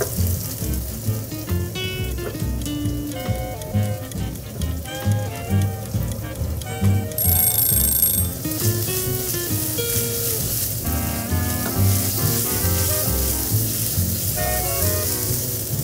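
Potatoes frying in oil, a dense, loud, continuous sizzle and crackle heard close up, with music playing underneath throughout.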